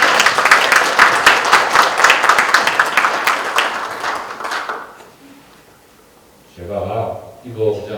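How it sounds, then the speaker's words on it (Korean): Lecture audience at a Korean university professor's talk bursts into rapid, dense clapping that fades out after about five seconds, followed by a brief lull and then someone speaking. "이럴 때 박수를 쳐야 되는 거 아닌가?"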